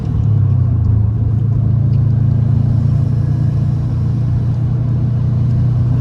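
A 2010 Subaru STI engine holds a steady, loud drone under roughly 5.5 psi of boost during a tuning run, an even humming note that stays constant throughout with no talking.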